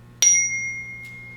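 A meditation chime struck once for a breathing exercise, giving a bright metallic ring that fades slowly over about a second, with a faint second touch near the end.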